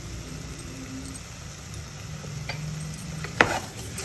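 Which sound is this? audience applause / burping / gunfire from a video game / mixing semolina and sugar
mixing semolina and sugar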